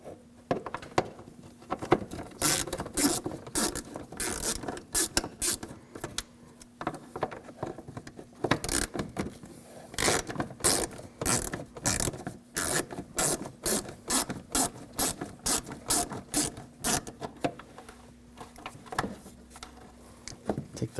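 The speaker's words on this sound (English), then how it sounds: "We're going to use a 8mm socket. Take those screws out." A ratchet with an 8mm socket removes the fog light screws on a BMW 328i, its rapid clicking coming in repeated runs over about twenty seconds, close and fairly loud.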